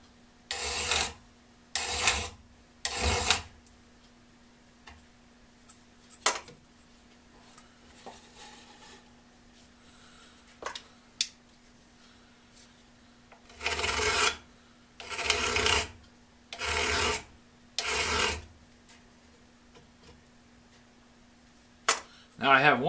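Carbide-toothed saw blade with alternating bevel teeth being sharpened by hand with a file, heard as bursts of three to four rhythmic rasping strokes separated by quiet pauses with light handling noise.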